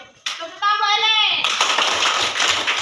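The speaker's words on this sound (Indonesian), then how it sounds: "Iya, tepuk tangan boleh." A classroom group of children claps after a student speaks in a lesson, a short spell of quick, loud clapping heard after a brief voice.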